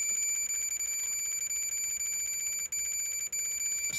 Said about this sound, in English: you can hear it is reasonably sensitive, and it is letting you know what's going on in the background